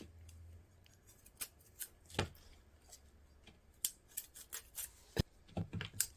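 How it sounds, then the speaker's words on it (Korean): Scissors or a knife snip the root heads off fresh ginseng roots in a series of sharp, irregular clips and rustles, close by and fairly quiet, with no speech. "인삼 손질을 해줍니다. 뇌두를 잘라줍니다."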